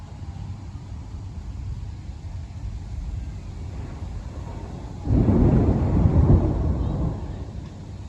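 During a severe thunderstorm with strong winds in Dayton, a low thunder rumble bursts loudly about two-thirds through and rolls on for a couple of seconds over a steady background of wind and storm noise.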